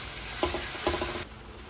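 Meat sautéing in a pan for dinuguan: a steady, close sizzle with two brief bursts of stirring scrapes partway through, then the sizzle drops quieter and continues alone.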